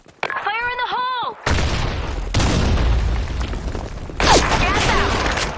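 Grenade explosions in a Sand Storm match of a multiplayer shooter game: a loud blast after a short radio-style voice callout, followed by a second booming detonation with rumbling debris and more gunfire-like cracks.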